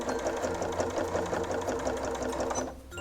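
A sewing machine stitches binding onto the edge of a quilt with double batting, giving a close, steady mechanical whir with rapid needle clatter that runs continuously and then cuts off just before the end.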